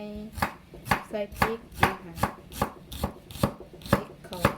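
A knife chopping ginger and onions on a cutting board, about a dozen steady, evenly spaced chops, close and clear with no talking.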